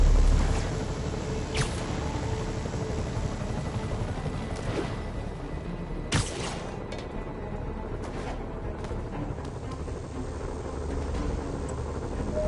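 Helicopters fly over the city in Marvel's Spider-Man on PS5, a steady broadband rotor roar that fills the whole stretch, with a few sharp clicks and swishes cutting through.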